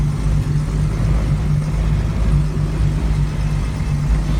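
A 1967 Ford Mustang with new spark plug cables and in need of a tune runs while driving, a loud, steady low engine drone with a constant hum and no talking.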